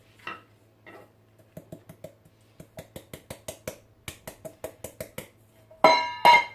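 Chickpea flour being sifted for montécaos, heard as a quick series of light, crisp metallic taps from the sieve, close and faint, ending in a couple of louder rustling scrapes with no talk.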